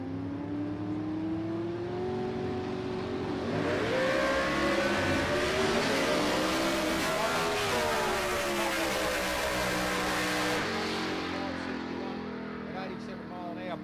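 Drag racing hot rods, including a twin turbo rail, revving hard at a qualifying event, a loud sustained engine roar whose pitch climbs and sweeps for the whole stretch, with a commentator talking over it.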